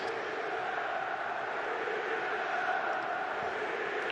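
Stadium football crowd at a Benfica versus Porto match, a steady dense roar of many voices filling the whole moment, with no distinct individual shouts standing out.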